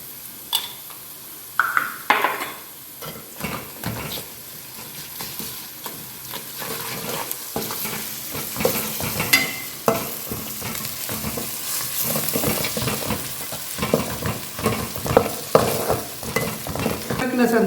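Ginger and garlic sizzling in hot oil with mutton in a pan, a steady fry under repeated scraping and clanking stirs of a spoon against the pot, close and alone without voices.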